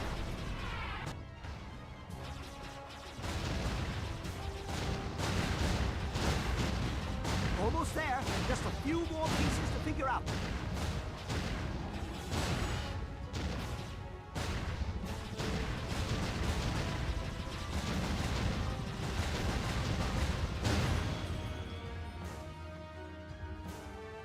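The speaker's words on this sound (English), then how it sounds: "Our flight was great fun. Lots of explosions." Repeated explosions and crashing booms during a flight sequence in the video game Jade Empire, loud and dense over several seconds, with a voice speaking briefly over the action.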